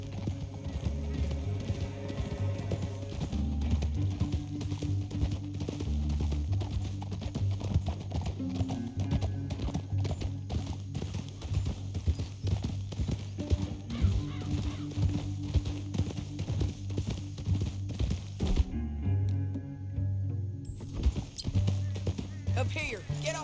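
Galloping horse hooves in a Western video game, a steady rapid clip-clop with a horse whinny, running under game music and voiced dialogue throughout.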